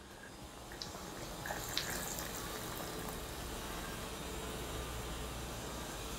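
Tamarind water is poured into a pot of simmering green chilli sambar, giving a faint, continuous bubbling and liquid wash with a few light clinks, quiet and without voices.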